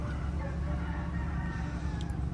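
Chickens and other farmyard fowl cluck and squawk in a steady, dense chorus, close and fairly loud, with a faint voice now and then underneath.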